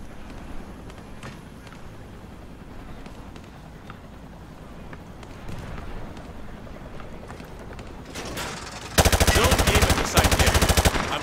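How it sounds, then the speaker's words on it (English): Gunfire at targets in Modern Warfare 2 Remastered: a quiet lead-in with faint shots, then loud rapid automatic bursts near the end, firing alone without talk. "Grab that weapon off the table and fire at the targets behind you."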